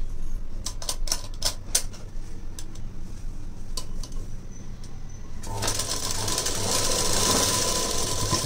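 A sewing machine stitches a long puff sleeve onto a garment body. Scattered sharp clicks and ticks from handling the machine lead into a steady, continuous mechanical whir of fast stitching that runs to the end.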